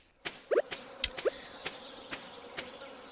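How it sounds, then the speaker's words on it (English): Buzzing insects like bees or flies in the modded Stardew Valley game, heard as faint, intermittent buzzes and chirps scattered through a quiet ambience, with a few sharper tonal blips early on. "Why do I hear bees?"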